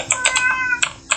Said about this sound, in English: My cat is very loud.